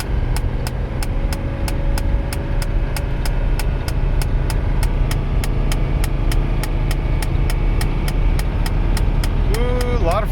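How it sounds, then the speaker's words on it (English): A Mercedes 300CD diesel engine drones steadily under heavy load while driving, with a sluggish transmission that won't shift, accompanied by a regular ticking and a brief squeal near the end. "Seems to be a lot of load on the engine."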